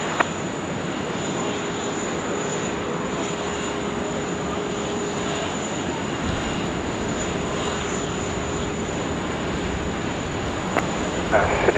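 A China Southern heavy airliner on approach to Runway 16 right at Sydney Airport makes a steady, continuous broadband engine rumble with a faint whine, sustained evenly and fairly loud, with no voices.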